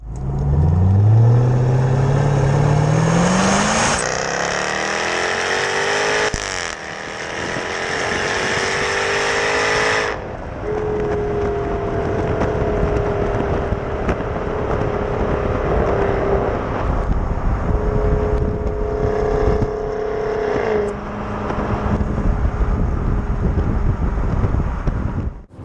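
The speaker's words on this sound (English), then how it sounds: "the exhaust in here is louder and it's more aggressive" A 2021 Jaguar F-Type R exhaust roars during hard driving, rising through the gears with sharp shifts and a loud, aggressive note over steady wind and road noise, with no talking.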